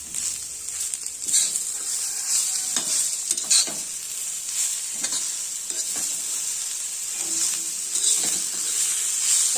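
Boiled pulses are mixed into a frying wild greens bhaji, giving a constant bright sizzle with repeated stirring scrapes and clatters of a spatula against the pan. Close and fairly loud, with no voices.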